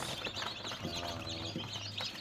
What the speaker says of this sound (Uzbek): Andijon qora jo'jalari va Damashq jo'jalarimiz.